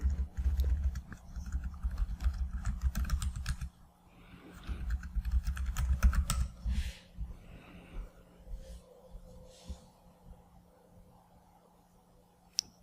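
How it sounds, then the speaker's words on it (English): Fingers type a password on a computer keyboard, a dense run of close, rapid key clicks that slows and thins into scattered taps toward the end, over a low steady hum. "Let's type in our password here."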